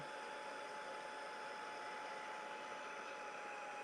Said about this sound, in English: I'm going to actually dry it a little bit with my heat tool. I've got it just on low.